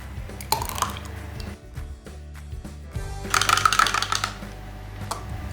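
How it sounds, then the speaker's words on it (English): Fork whisking egg with pureed spinach in a bowl, rapid clicking and tapping strokes in quick bursts, close and fairly clear, with no talking. "Give it a bit of a whisk up, just with a fork is fine."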